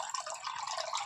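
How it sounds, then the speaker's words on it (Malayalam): Small artificial waterfall being filled, water streaming and splashing in a steady, quiet trickle heard close up. "അപ്പോൾ നമ്മളുടെ വാട്ടർഫോൾ നിറയ്ക്കാൻ പോവുകയാണ്."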